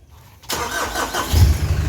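A Mitsubishi Strada pickup, idle for three weeks, cranks and its engine catches after a half-second of near silence, settling into a close, loud running rumble.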